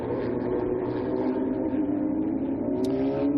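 Radical race cars on the formation lap at Portimao at the Radical World Finals 2023, a continuous droning engine note with a gradually rising pitch, steady and fairly loud.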